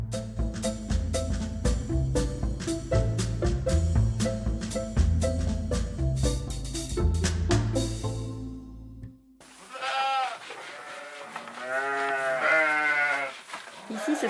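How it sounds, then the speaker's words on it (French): Poitevine goats, a local breed, bleat on a farm, several wavering calls overlapping in the second half; the first half is taken up by loud, steady rhythmic music. "Ici, ce sont des chèvres poitevines, une race locale qui a été sauvegardée grâce aux éleveurs qui l'ont choisie."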